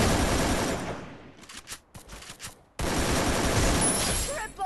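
Rapid automatic gunfire in a battle royale shooter, bursts of dense loud shots that break off into a few scattered reports and short gaps before another sustained volley, with someone talking over the fighting.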